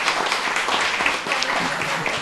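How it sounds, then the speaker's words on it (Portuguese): An audience at a book launch applauds, dense overlapping hand claps forming a steady wash of applause from a crowd, fairly loud and continuous throughout. "palmas para todos nós"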